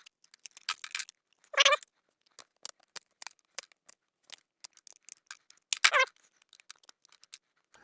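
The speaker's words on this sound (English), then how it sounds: "Trying not to cut into the part itself, of course, only the support structure here." Small cutters snip support structure off a cured resin 3D print, quick sparse clicks and crisp snips at close range, with a couple of longer scraping cuts.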